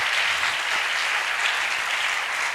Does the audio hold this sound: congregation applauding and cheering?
yes